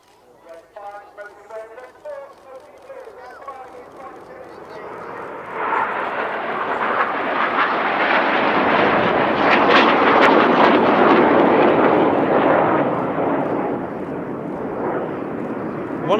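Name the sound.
Red Arrows jets flying the Tornado manoeuvre at an airshow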